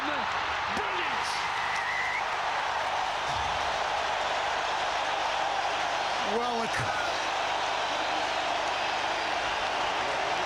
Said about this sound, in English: the crowd say it all